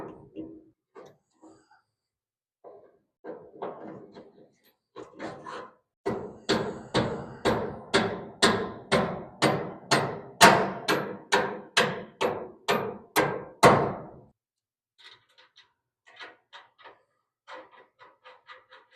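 Steady hammering while a lower control arm goes onto a 1964 Ford Falcon: a close, loud run of about twenty evenly paced metallic blows, with a few scattered lighter taps before and after.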